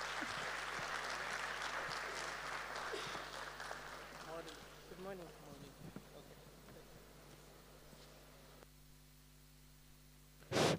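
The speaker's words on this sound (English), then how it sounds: "Let's give a round of applause to our CEO as she makes her way here." An audience at a corporate event claps as the CEO walks to the front. The applause is fairly loud at first, then thins out and fades into murmuring voices, and a sharp burst of noise comes at the end.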